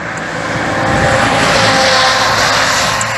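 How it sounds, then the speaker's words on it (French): Traffic passes along a busy French national road heard from a bicycle on a long road trip, a loud swelling roar of a passing vehicle that builds and fades over a few seconds. "Je suis sur une nationale, donc il y a de la circulation."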